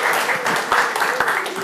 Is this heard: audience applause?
yes